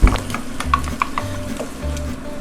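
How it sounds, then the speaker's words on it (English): Spoon scraping and stirring tomato through a venison Swiss steak mixture in a pan, a few light knocks and soft sizzle underneath, close and unhurried. "Get that stirred in"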